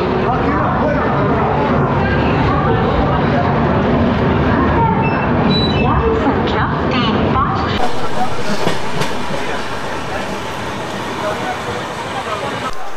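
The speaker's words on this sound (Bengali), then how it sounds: "এই বর্ধমান আর দুর্গাপুর এর মাঝখানে আমাদের ট্রেনটা 63 কিলোমিটারের একটা নন স্টপ জার্নি করবে" The Poorva Express runs nonstop between Bardhaman and Durgapur, a steady loud rumble and rattle of wheels and carriages heard from on board, easing slightly toward the end, with a voice speaking over it.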